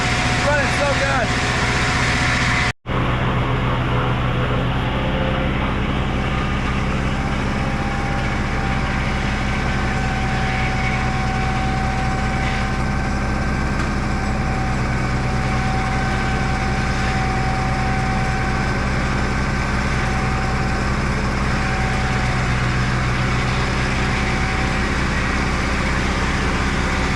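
A sawmill engine cutting timber and throwing sawdust runs in a steady, even drone for the whole stretch, with only a momentary dropout near the start and no voices.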